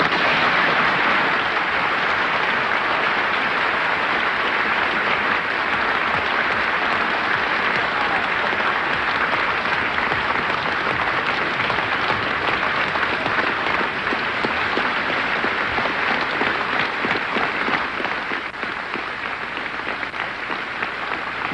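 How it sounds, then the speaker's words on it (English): At the Cambridge Union, the audience stands and applauds a speech by James Baldwin, with dense, sustained clapping from a large crowd at an even level for over twenty seconds that eases only slightly near the end. "the whole of the Union standing and applauding this magnificent speech of James Baldwin"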